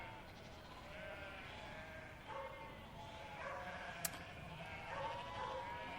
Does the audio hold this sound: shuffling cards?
no